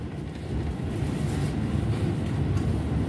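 KA Ciremai passenger train running toward Bandung station, a loud continuous rumble of wheels on rails with a steady low roar and faint rattling, close and unbroken, no talk.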